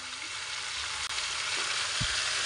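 Chalta pickle with salt and mustard paste cooks in a pan with a soft, even sizzle and one faint low knock of stirring near the end, fairly quiet throughout.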